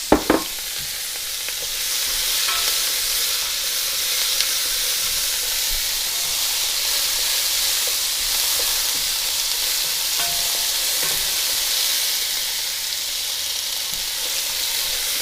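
Onion, carrot and celery sizzling steadily in a pan alongside browned beef short ribs, a continuous close frying hiss with a few brief stirring clatters near the start.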